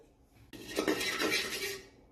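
A utensil scrapes and clinks against a metal pan in a short burst of stirring Kashmiri chili powder and turmeric, close and fairly quiet, with no talking.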